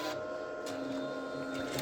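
Steady mechanical whir of a Procolored K13 Lite ink-tank printer running a self-cleaning cycle, with a continuous motor hum and faint shifting tones, moderately quiet and unbroken.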